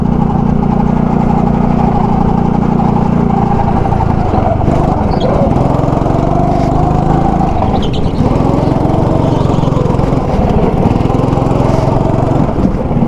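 A go-kart engine drones loud and continuous during a race in Dhaka, its pitch shifting as it revs and slows, close and steady throughout with no clear talk over it.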